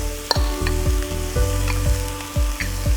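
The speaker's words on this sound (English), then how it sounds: "After that, we put the rice." Rice and raisins sizzle loudly in a hot oiled pan, with rhythmic scraping stirs every half second or so, up close and without talk.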